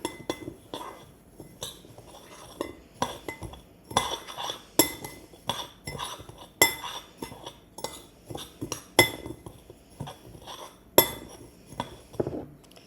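A metal spoon clinks and taps repeatedly against a bowl while stirring a seasoned panko breadcrumb mixture for garlicky fried chicken, with quick irregular strikes close by and no talk.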